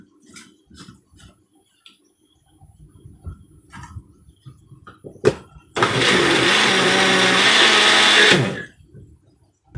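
A blender whirs through a batch of vegan tomato and leek soup in a home kitchen, a loud steady roar lasting about three seconds and then cutting off, with quieter kitchen clatter before and after.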